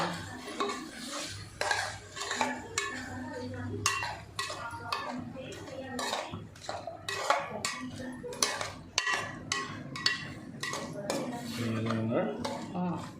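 Utensil scrapes and clinks against a metal pot as a spicy Kurnool-style chicken gravy is stirred with kasuri methi and mint powder, a steady run of close, irregular clatters with no talk.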